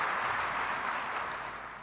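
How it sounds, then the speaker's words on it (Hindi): An audience applauds with a steady, dense wash of clapping that sounds faint and slightly distant, fading a little toward the end. "उस फख्र का एहसास तालियों की इस गड़गड़ाहट से आसानी से किया जा सकता है"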